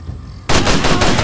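Loud, close automatic gunfire in the Far Cry 2 final mission, bursting in suddenly after a quiet moment and continuing as rapid, sharp repeated shots.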